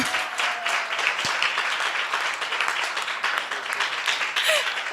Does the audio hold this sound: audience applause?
yes